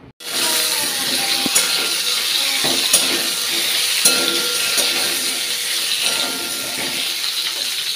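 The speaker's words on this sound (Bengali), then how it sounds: "ফোড়নটা দিয়ে তেলের মধ্যে ফোড়ন দিয়ে দিয়েছি" Whole spices tempering in hot oil for an egg curry, a sudden loud sizzle that erupts and then holds as a steady, close crackle with occasional clinks of a utensil.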